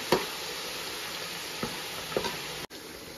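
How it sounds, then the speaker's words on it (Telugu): Ginger garlic paste fries in a pan with a steady, close sizzle, broken by a few soft stirring scrapes; no one speaks. "అల్లం వెల్లుల్లి ఫ్రై అయిపోయిందమ్మా."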